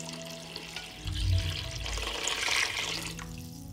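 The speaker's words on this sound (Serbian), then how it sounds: "Nalit ću vodu da prekrije sve sastojke." Water pours steadily into a cooking pot over sautéed peppers, tomato and garlic, a continuous rushing splash that swells in the middle and then settles into a softer flow.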